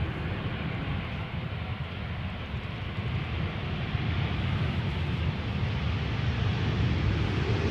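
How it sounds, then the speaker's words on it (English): A Vueling Airbus A320 arriving on the runway gives a faint, distant, broad jet rumble that builds slightly, steady with no voices. "On our runway we have a Vueling with the old livery, the old standard livery, arriving from Alicante, flight 1377, Airbus A320."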